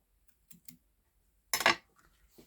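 Scissors snip through silver cording from an elegant trim package while a gift tag is made, giving one sharp, close cut after a few faint clicks of handling.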